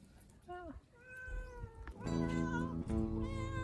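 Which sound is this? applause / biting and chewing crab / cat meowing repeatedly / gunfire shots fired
cat meowing repeatedly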